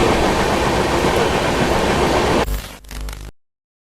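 An express train runs on rails with a loud, steady rumble for about two and a half seconds, then a few sharp clattering wheel knocks before it cuts off into silence.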